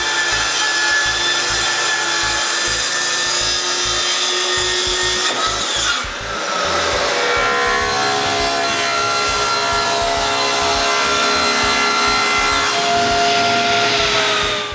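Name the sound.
sawing the two other plywood tops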